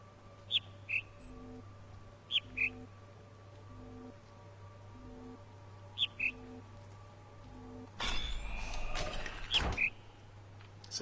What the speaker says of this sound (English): Is this to do with that bird noise?